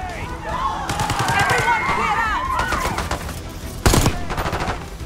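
Gunfire in Call of Duty Black Ops 6: sustained automatic bursts with dense repeated cracks, a sharper loud burst near the end, mixed with game voices and effects throughout.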